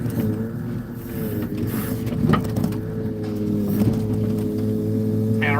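An older hydraulic machine without two-stage hydraulics idles at low RPM, giving a steady, fairly loud mechanical hum with a constant engine drone and faint whine that runs unbroken with no talking.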